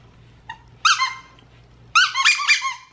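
A squeaky plush dog toy, the Gus Gray Bar from Patchwork Pet with a bit of rope attached, is squeezed: a brief chirp, then two loud, close, high-pitched squeaks, the second longer and wavering, with no talking.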